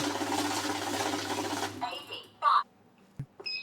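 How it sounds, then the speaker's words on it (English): A banknote counting machine runs with a steady mechanical whir and buzz that cuts off midway, followed by a few short beeps and clicks in the quiet that follows. "Turning on a note counting machine."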